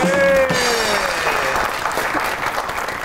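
A studio audience on a comedy talk show claps for a table tennis champion, loud dense applause that starts strong and slowly thins out, with a faint voice briefly over it.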